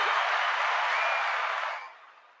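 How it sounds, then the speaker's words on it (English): A burst of steady clapping at a small talk-show recording, holding even and fairly close before fading away quickly toward the end. "let me give you a round of applause before I switch over"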